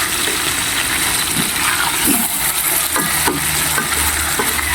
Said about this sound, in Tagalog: pritong tilapia na minarinate natin sa curry powder